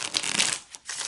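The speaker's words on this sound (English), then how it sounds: "I'm going to take a few moments to shuffle the deck" A tarot deck being shuffled on a table: a dense, papery riffle of crackling card flutter, briefly pausing before a second burst, close and fairly loud with no voices.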